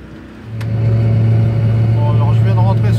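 A Mazda MX-5 pulls onto a motorway, its engine droning steadily and loudly as it accelerates from a quieter start, with a low tyre and road hum underneath and faint talk over it.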